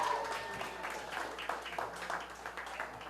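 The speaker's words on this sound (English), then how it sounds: "I want to hear a big round of applause for the Billy Goats and the Chi-Town Red Hots who played earlier" Applause and clapping from a School of Rock senior show audience in Chicago, a moderately loud crowd sustained for a few seconds with some voices mixed in.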